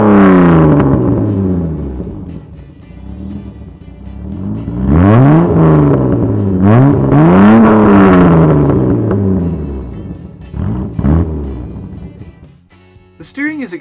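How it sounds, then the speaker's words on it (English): A 1989 BMW E30 with a resonator delete accelerates hard while driving, its loud engine note rising and falling through several rev sweeps and gear changes, then settling to a quieter cruise near the end. "This car has a resonator delete that makes it pretty loud"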